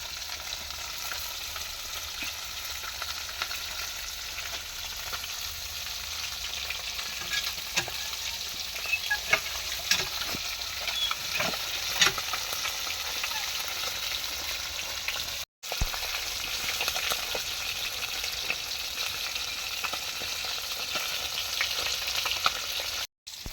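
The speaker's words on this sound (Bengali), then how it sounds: "এবারে মা মাছ ভাজছে" Fish frying in a pan in a home kitchen gives a steady, dense sizzle of hot oil throughout, near and even, broken by occasional light clicks and scrapes and two brief dropouts.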